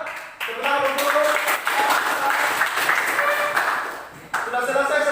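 Classroom students clap together in brisk, fairly loud applause that runs steadily for several seconds, with voices mixed in and a fresh burst of clapping near the end.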